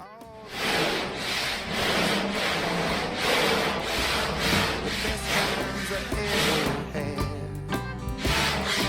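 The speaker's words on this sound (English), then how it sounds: "Sanding's boring." Rhythmic back-and-forth sanding strokes on fibreglass body filler on a vintage Bedford truck, a scratchy rasping sound repeating steadily at close range.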